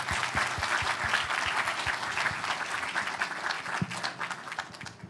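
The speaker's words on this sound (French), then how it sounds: "Merci d'applaudir Isabelle Maroger," Steady, full audience applause for a comedian at a French stage show, dense clapping from a large crowd heard on its own at moderate level for several seconds.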